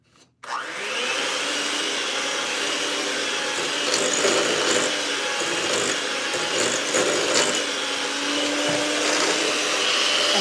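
An electric mixer whirs steadily through pound cake batter, starting abruptly after a brief quiet moment and then running loud and continuous, with a slight rise in intensity midway.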